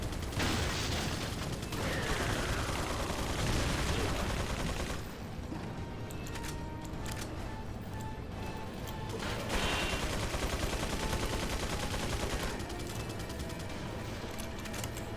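Minigun fire in the video game Resident Evil 4, a loud, sustained rattling stream of rapid shots with mechanical whirring, continuous throughout with slight shifts in intensity and no voices.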